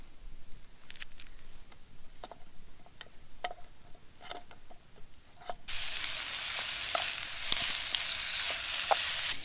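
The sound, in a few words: Jimmy Dean maple sausage frying in a pan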